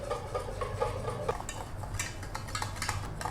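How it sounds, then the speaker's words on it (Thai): A spoon scrapes and clinks steadily against a pot while pandan cream mixture is stirred over medium-low heat on the stove, soft close taps with a faint kitchen hum underneath. "จากนั้นก็คนไปเรื่อยๆ จนส่วนผสมข้นแล้วก็เดือด"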